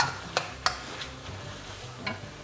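Wild boar is stir-fried in oil in a pan, with a soft sizzle under a few scraping stirs and sharp utensil clicks early on, close and moderately loud.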